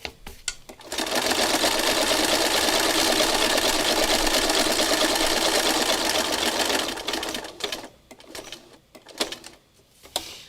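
A sewing machine stitching fabric runs in a fast, continuous whirring rattle for about six seconds, then stops, followed by softer handling clatter.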